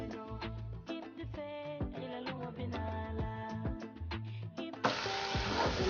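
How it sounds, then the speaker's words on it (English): Chopped onion drops into hot oil for Gambian chicken yassa and breaks into a loud, steady sizzle that starts near the end, following a stretch of tonal background music. "The oil is nicely hot here, so we're going to go on and add the onion in."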